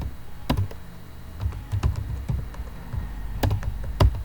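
Close-up typing on a computer keyboard: irregular clusters of light key taps and clicks, with a few sharper strokes, over a quiet background and no speech.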